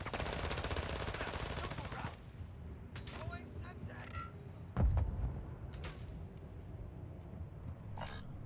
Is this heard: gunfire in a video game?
yes